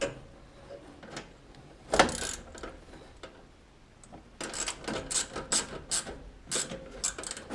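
A ratchet tightens bolts on a riding lawn mower, giving bursts of quick, close clicking strokes separated by brief pauses, with faint handling noise between them.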